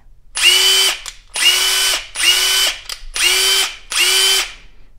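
A Hikoki WH36DC impact driver running in bolt mode gives five loud, close bursts of high mechanical whirring and hammering, each roughly half a second to a second long, separated by short silent pauses.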